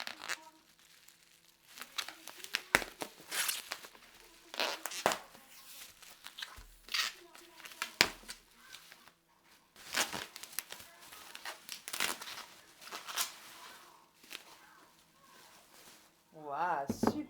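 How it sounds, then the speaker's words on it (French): Crinkly bubble wrap rustling and crackling in irregular bursts as a knitting needle kit is unwrapped, close by, with a voice speaking intermittently in between. "c'est bien enveloppé comme ça dans du papier bulle"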